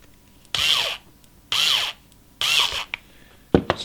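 An electric screwdriver drives a screw into a Tamiya Volvo FH12 Globetrotter 420 model truck, whirring in three short bursts with pauses between, followed by a few small clicks.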